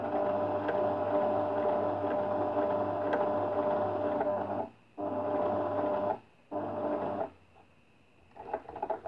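A sewing machine stitches binding tape along a garment's side seam, a close, steady motor whir that runs continuously before breaking into a few short stops and restarts near the end.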